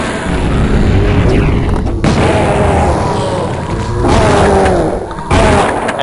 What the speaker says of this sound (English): we're just going to use a napalm shot on these zombies